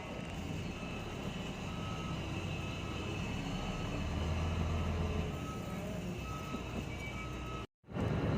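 A Chinese-made truck reverses, its backup alarm beeping steadily over a constant engine rumble, with a brief dropout near the end.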